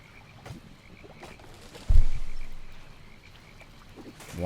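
A frog croaks in the Albion Online video game, with a few soft croaks against quiet game ambience and one louder, nearer burst partway through.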